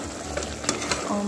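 Duck curry sizzles and fries in a pan while being stirred, with a steady crackling hiss and a few scraping clicks from the utensil, close and moderately loud.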